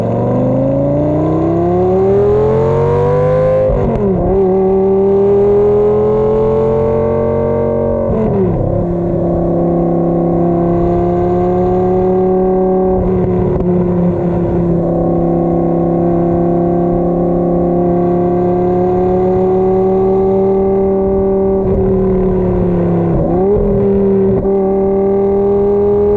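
A Lamborghini Gallardo engine drones loud and close. Its pitch climbs and holds, then drops sharply at each gear change before rising again, continuous for the whole stretch.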